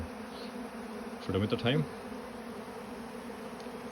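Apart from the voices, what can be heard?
bees and wasps buzzing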